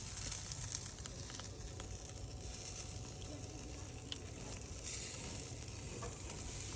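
Smoked ribs searing over direct charcoal coals on a grill give off a steady, close sizzle with faint crackles and pops, an unbroken hiss throughout.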